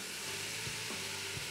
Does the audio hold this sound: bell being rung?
no